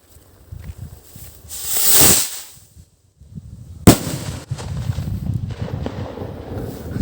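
A Super Quitis firecracker from Iloilo gives a rising fizzing whoosh as it launches, then a sharp, loud bang, followed by scattered crackling and wind noise outdoors.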